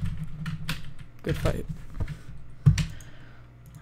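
Computer keyboard keys tap in scattered, close clicks with a thumpy low end, a sharper knock near the end, and a person says a couple of words over them.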